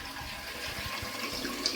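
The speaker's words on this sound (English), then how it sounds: "So I'm just going to pour most of the liquid off into this other jar." Kombucha liquid poured from one jar into another, a steady splashing, gurgling stream heard close up throughout the short moment.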